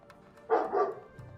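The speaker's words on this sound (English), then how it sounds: "no barking!" A pet dog gives a single close bark, a short double-peaked woof, over quiet game music in a home room.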